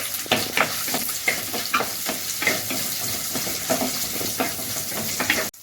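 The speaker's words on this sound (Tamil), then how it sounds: "இப்போ இந்த சின்ன வெங்காயத்தை சேர்த்துக்கிறேன்." Small onions (shallots) fry in hot oil with fennel seeds and curry leaves for mutton kuzhambu, a loud continuous sizzle under rhythmic, repeated scrapes of a stirring spoon.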